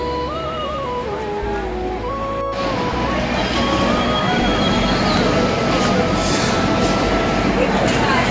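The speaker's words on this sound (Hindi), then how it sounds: "गाइस मुंबई अमृतसर ट्रेन जा रही है." A Mumbai–Amritsar passenger train runs along, with a continuous low rumble of rolling wagons. Voices or tonal sounds drift over it at the start.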